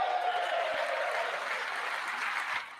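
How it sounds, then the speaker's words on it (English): An audience claps during a speech in a dense, steady wash of applause that holds for nearly three seconds and then drops off. No clear chanting comes through. "I do hate when people clap and chant"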